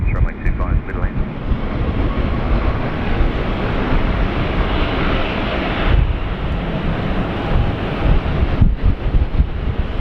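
Strong wind batters a microphone during plane spotting at Sydney Airport, a constant loud roaring rumble that fills the whole stretch with a few sharper gusts, while aircraft noise may sit faintly underneath.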